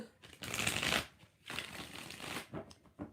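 A deck of tarot cards gets shuffled by hand in quick, soft riffling bursts, with two longer runs followed by a couple of short flicks, close by and fairly quiet.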